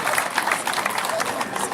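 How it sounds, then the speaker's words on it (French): A crowd breaks into a burst of dense, sustained clapping at a village chief's investiture ceremony in Zaguina, with voices mixed into the applause. "On applaudit s'il vous plaît"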